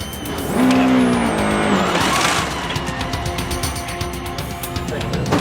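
A rally car blasts past on a stage during a World Rally event, a loud engine roar with a sharp pitch sweep and brief tire noise, then fading into a steady rumble and wind.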